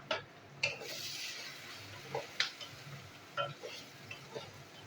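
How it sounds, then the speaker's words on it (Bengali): Chopped onions frying in a pan for a vegetable dal khichdi, a low, steady sizzle running throughout with repeated sharp scraping taps of a spoon stirring against the pan. "পেঁয়াজটা একটু ভেজে নেবো"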